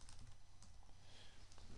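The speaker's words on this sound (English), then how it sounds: "I'm typing on both keyboards" Steady typing on computer keyboards, a dense run of quick key clicks going on without pause over a low background hum.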